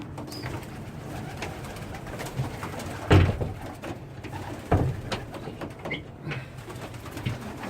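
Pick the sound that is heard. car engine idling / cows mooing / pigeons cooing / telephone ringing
pigeons cooing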